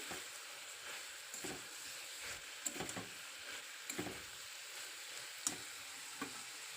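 Hard winter vegetables such as flat beans, radish and raw green plantain fry in a pan with a steady, close sizzle and occasional small pops and stirring clicks.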